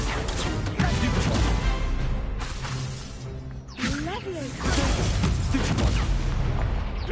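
Confringo fire-spell blasts in the Hogwarts Legacy video game, dense rumbling explosions and crackling bursts that fill the mix almost continuously, with a brief dip near the middle and a voice speaking among them.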